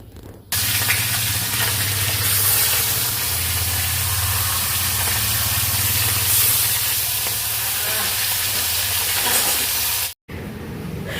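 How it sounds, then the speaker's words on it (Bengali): Salted, turmeric-coated fish frying in hot oil, a loud steady sizzle and hiss that starts abruptly and continues for about ten seconds with a brief cut near the end. "এই যে মাছে নুন হলুদ মাখিয়ে নিয়েছি, এখন মাছটা ভাজবো।"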